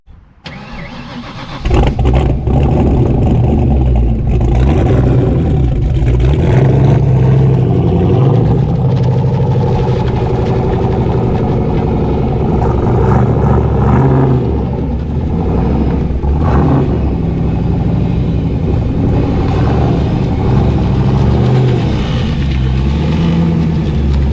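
A supercharged 351W Vortech Foxbody Mustang fires up and runs hard on dyno rollers, a loud, close, continuous engine roar with revving surges and a heavy low rumble throughout, no voices.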